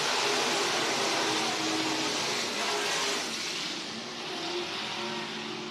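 IMCA Northern SportMod race cars roar away on the dirt track at Worthington Speedway, a dense, loud blend of engines at full throttle that holds steady and fades slightly as the pack moves off.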